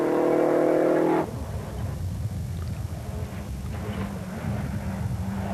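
A flat-six rally car engine roars loudly for about a second, then falls back to a lower rumbling growl that continues at moderate volume through the rest of the stretch.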